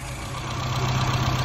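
A car engine idles close by with its ignition timing set very retarded, giving a steady, continuous low rumble with no other sounds.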